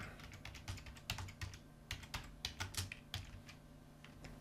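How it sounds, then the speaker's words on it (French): Irregular clicks of typing on a computer keyboard during WordPress theme coding, close and quiet, with scattered single keystrokes and short bursts over a faint steady hum. "Donc, je tape the excerpt."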